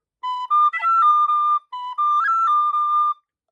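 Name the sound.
Burke tin whistle playing the Old Favorite Jig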